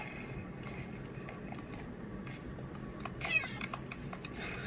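A cat meows in Minecraft, played on a Nintendo Switch Lite, as a few short, faint calls over steady game background sound and ticking.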